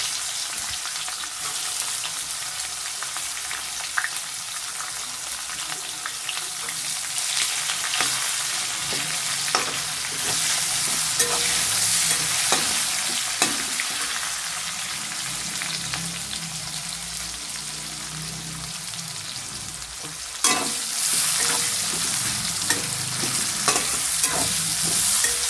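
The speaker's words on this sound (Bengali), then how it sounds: "এটা একটু লাল লাল করে ভাজা হতে থাক।" Onion fries in oil with dried chillies and bay leaf for a chicken curry, a continuous close sizzle broken by repeated stirring scrapes and a sharper clatter near the end, with no voices.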